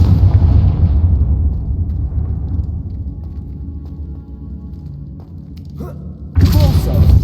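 The Confringo fire spell blasting in the video game Hogwarts Legacy, a loud, deep booming explosion that rumbles and slowly fades, with another sharp burst near the end.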